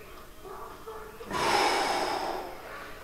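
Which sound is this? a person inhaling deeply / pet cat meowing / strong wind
a person inhaling deeply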